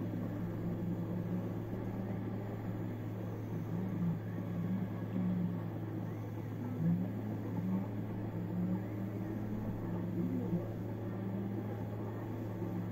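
Racing car engine from the Sega Rally video game, a steady droning hum held at an even level throughout with a faint rumble, no distinct gear changes or crashes.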